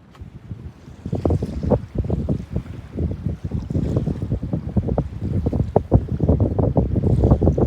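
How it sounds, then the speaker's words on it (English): Strong, gusty wind roars over a boat at anchor in San Quintin Bay, Baja, with buffeting microphone rumble and rattling, slapping bursts that build and stay loud throughout. "We've had some crazy winds all day."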